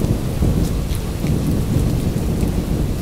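Minecraft storm weather with hail and a squall line: continuous heavy rain hiss with deep rumbling thunder rolling underneath, steady and enveloping throughout, no voices.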